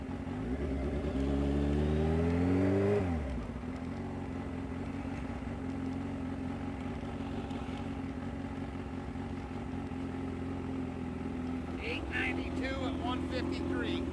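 Turbo Suzuki GSX-R 750 on a drag strip pass: the engine climbs through rising rev sweeps for about three seconds, then drops to a steady, more distant drone, with wind-like rumble and a faint voice later.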